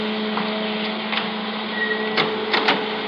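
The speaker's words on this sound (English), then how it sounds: "Kill that dryer, will you?" Photographic print dryer running in a darkroom, a steady mechanical hum with a constant tone and a few soft ticks and clicks, continuous and close with no talk.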